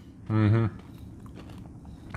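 Crunchy chewing and biting of oil-free hash browns, with soft crisp crunches close by after a brief voiced sound, and quiet talk around them.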